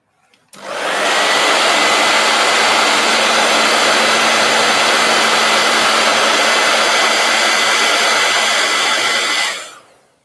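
Heat gun switched on, a steady loud hot-air blower hiss with a faint motor whine holding evenly for about nine seconds before cutting off.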